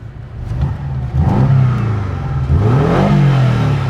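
A 2019 Porsche 718 Cayman with PDK gearbox and chrome sport exhaust tips revs its engine up close, a loud throaty rise and fall repeated twice over the short span.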